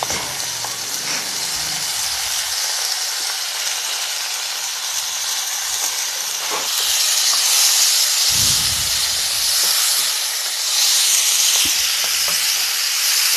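Alobate being fried in a hot pan, a steady loud sizzle and hiss with occasional stirring, heard alone without talk.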